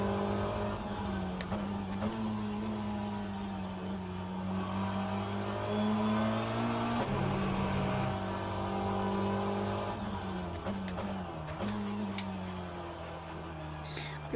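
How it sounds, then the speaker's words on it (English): Race car engine in the sim game rFactor 2, a steady loud drone that rises and falls with gear changes and throttle, with faint tire noise and a voice talking briefly over it. "just enjoying driving a car"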